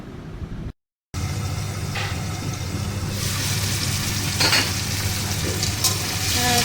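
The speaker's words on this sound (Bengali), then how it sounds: "ছোটো ছোটো করে আলু কেটে এই যে ভাজা বসিয়েছি" Small diced potatoes fry in a pan with a loud, close, continuous sizzle, broken only by a short silent gap near the start.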